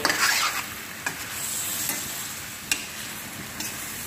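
Mashed cauliflower and soya beans stir-fried in a wok, an ongoing soft sizzle broken by sharp scraping and tapping stirs spaced a second or so apart.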